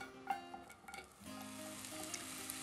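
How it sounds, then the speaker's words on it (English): Green bell peppers sizzle in a hot cast iron skillet with grapeseed oil, a faint steady crackling hiss that swells after an initial clink and a few pops, continuing evenly close by. "You let these sizzle for a bit just so they get a good sear."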